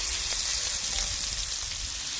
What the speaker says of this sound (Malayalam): എണ്ണ ചൂടായിട്ടുണ്ട്. ഇനി നമുക്ക് ചെമ്മീൻ ഇട്ടെടുക്കാവേ